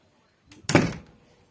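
A door in a village house is pulled shut with a light knock followed by a heavier thud that fades quickly, heard close by in an otherwise quiet room.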